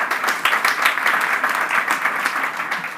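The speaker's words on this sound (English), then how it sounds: "Big applause for her" Audience applause for the FIBAN chairwoman at an international business angels summit, a dense, even patter of many people clapping together, sustained and fairly loud without a pause.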